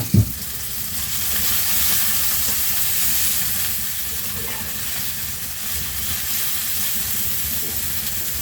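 A flank steak fries on a wood stove in a snowbound cabin, a steady close sizzle and hiss that opens with a short clunk.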